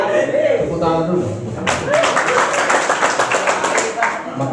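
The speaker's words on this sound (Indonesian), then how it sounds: "Tepuk tangan dulu." An audience at a Maulid Nabi religious gathering claps hands, a dense burst of steady applause that starts suddenly partway through and continues loud, with voices and room noise mixed underneath.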